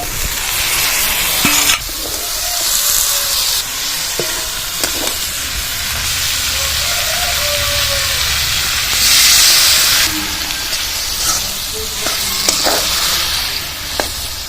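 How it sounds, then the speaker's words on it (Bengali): A fried fish head sizzles loudly with spices in a pan for chhyachra. The frying hisses continuously, with steamy bursts and repeated clattering stirs, and no talk is heard. "এবার ভালোভাবে মাথার সঙ্গে মশলাটা কষিয়ে নেব"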